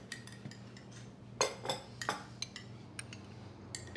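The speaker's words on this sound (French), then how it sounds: "C'est dans ta nouvelle définition de tâche de laver la vaisselle?" Cutlery and dishes clink in a domestic sink during washing up: scattered light metallic chinks and a few louder clatters over a quiet background, with no voices.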